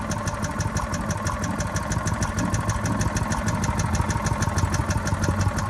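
A Predator 212cc engine on a Harbor Freight wood chipper idles as it warms up, a rapid, even chugging with metallic ticking, close and steady throughout.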